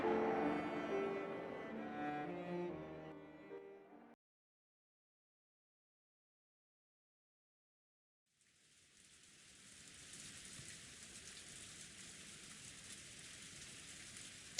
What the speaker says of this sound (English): Kinzo noticed the sound of the raindrops beating on the window.